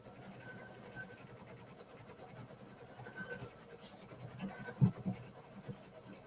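An embroidery machine quilts a Kimberbell Clear Blue Tiles design in the hoop, giving a soft, steady mechanical stitching hum with faint clicks and a small knock near the end, heard alone without speech.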